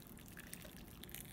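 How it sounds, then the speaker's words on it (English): Hot water is poured over lemon zest to brew lemon tea, heard as a soft, steady trickle and dribble at low level. "brew it with hot water."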